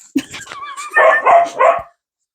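A puppy lets out a few high yips and whimpers, then three short barks in a quick row, close by.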